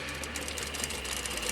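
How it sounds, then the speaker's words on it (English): A sewing machine back tacks a 45-degree stitch onto the binding of a button-up shirt, a fast steady mechanical whir and needle chatter heard up close and alone. "I'm going to do that 45-degree stitch. Back tacking"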